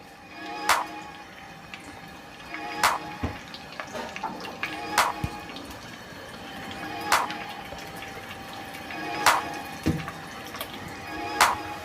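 Onions fry in a pan for an aloo palak sabzi, a quiet, steady sizzle and hiss broken by sharp pops and crackles every second or two.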